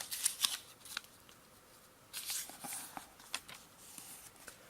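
Origami paper being folded and creased by hand, soft crinkles and sharp short rustles in a few faint bursts with quiet gaps between, close and alone.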